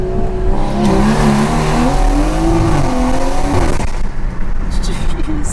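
A tuned Stage 2 BMW 340i accelerates hard on a late-night run, its engine loud and close with a rising, strained note that climbs through the gears before easing off.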